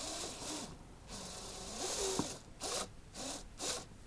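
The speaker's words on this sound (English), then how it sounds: "So now I'm taking the screw, I place it here, and I'm screwing." A screw is driven by hand into a piece of wood, giving soft, quiet rasping and squeaking twists that repeat in short bursts with brief pauses between them.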